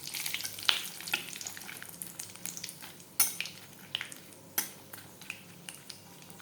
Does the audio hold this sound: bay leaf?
yes